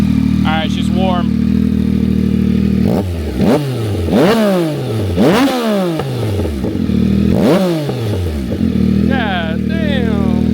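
Yamaha MT-09 SP fitted with a Kelpi exhaust, DNA intake and VCycleNut tune, idling loudly and close, then snapped through four sharp throttle blips that rise and fall back to idle, with voices talking over it.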